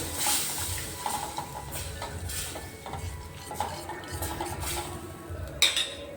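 Boiled dal being stirred into thin rasam in a metal pot: a ladle scrapes and knocks against the pot in an uneven rhythm of clinks and swishes, close up, with no talking.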